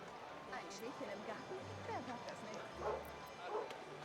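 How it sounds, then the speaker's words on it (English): A stray dog in the city-building game Anno 1800 gives a few soft, distant yips and whimpers amid game ambience. Someone talks over it throughout. "And a stray dog."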